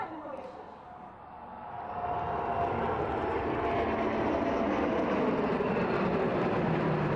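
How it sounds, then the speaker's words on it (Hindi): At the 2015 Republic Day parade flypast in India, a P-8I maritime aircraft passes overhead with two MiG-29 jets in formation. It gives a broad, steady engine roar that swells after a quieter start and stays heavy to the end. "आगमन होता हुआ P-81 विमान को 2 अन्य MiG-29 विमानों के साथ हम देख सकते हैं पोसाइडन फॉर्मेशन में"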